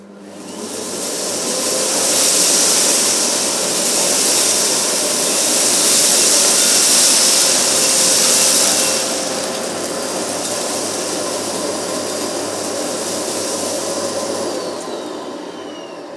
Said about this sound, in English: So I'm just going to pass the nozzle forward and back through the middle.